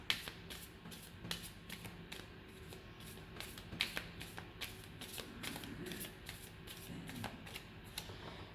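Romantic tarot cards being shuffled by hand, a steady run of quick papery riffles and flicks repeating throughout, close and fairly quiet with no talking.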